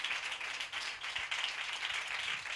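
A church congregation clapping their hands together in a fast, steady rhythm, many hands at once, moderately distant and somewhat faint, with no talk over it.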